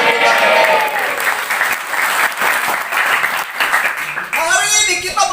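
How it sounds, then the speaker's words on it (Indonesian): Audience applause fills a church during a Christian sermon, steady and dense from start to finish, then tapering as a voice begins speaking near the end. "Berikan dulu tepuk tangan."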